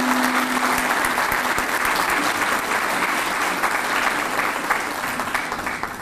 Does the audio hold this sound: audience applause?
yes